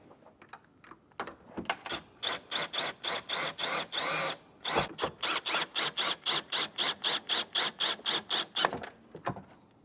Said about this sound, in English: Take a 10mm socket, we're going to remove that nut